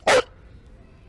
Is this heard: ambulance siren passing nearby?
no